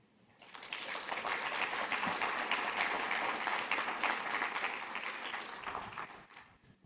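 An audience at a county community event applauds for John, a dense burst of clapping that starts abruptly, holds steady for several seconds, then fades.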